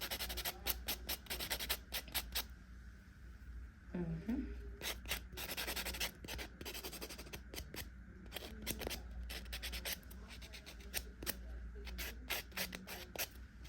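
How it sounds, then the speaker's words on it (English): A coarse buffer rubs and files acrylic nails during a soak-off, producing faint, quick scratchy strokes in rapid bursts with brief pauses. "I go in, I buff it, file it, and the roughness of the buffer will get any excess acrylic off."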